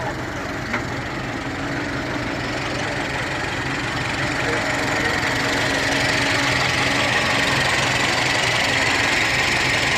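A 1923 Ford Model T four-cylinder engine, slightly modified, running steadily at idle with a close, rough mechanical chatter throughout, as a person speaks briefly over it.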